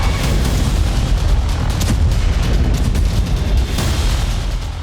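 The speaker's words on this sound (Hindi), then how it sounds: "इसी टास्क को पूरा करने के लिए इजरायली एयरफोर्स जबरदस्त बमबारी कर रही है।" Heavy bombing by the Israeli Air Force in Gaza produces loud, continuous booming rumble, with dense, overlapping blasts and roaring debris noise throughout.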